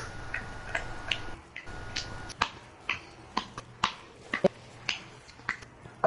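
Sharp, sparse claps or snaps spaced irregularly, about a dozen, close by over a quiet background.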